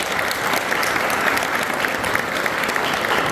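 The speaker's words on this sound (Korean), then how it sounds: "큰 박수로 격려 부탁드리겠습니다" A church congregation at an ordination thanksgiving service applauds, thick sustained clapping from many hands at a steady, fairly loud level across the whole span with no speech over it.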